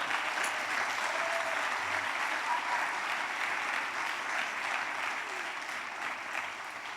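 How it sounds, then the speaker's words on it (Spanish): Audience at a church congress applauding steadily, a dense wash of clapping hands that holds at an even level for several seconds before easing slightly toward the end. "Un aplauso, Señor"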